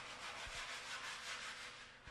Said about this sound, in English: Sand down with a coarse-grained glass paper.